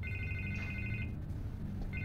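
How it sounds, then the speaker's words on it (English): A telephone rings insistently with a bright, trilling electronic bell in repeated bursts over a low, steady background hum, pausing briefly before starting again. "I can't get the phone to stop ringing."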